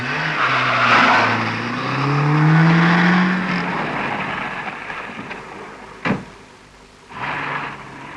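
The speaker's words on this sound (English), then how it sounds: "pouring on the coals in his 1310cc Mini" A 1310cc Mini rally car at the 1966 Southern Cross Rally pulls away, its engine note climbing loud and near before fading, with gravelly road noise and a sharp knock near the end.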